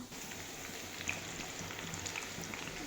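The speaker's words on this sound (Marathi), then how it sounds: "लाल होईपर्यंत कांदा तळायचा आहे" Sliced onions frying in oil for biryani give a steady, soft crackling sizzle with a few brief pops, heard close and alone without speech.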